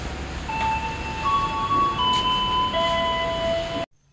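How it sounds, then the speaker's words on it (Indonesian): KRL Commuter Line electric train pulling away from Sudirman station, rumbling loudly with sustained whining motor tones shifting in pitch as it gathers speed, then cutting off abruptly. "Kereta KRL Komuter Line yang tadi kita naiki juga sudah jalan lagi."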